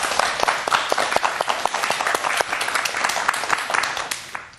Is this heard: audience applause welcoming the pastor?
yes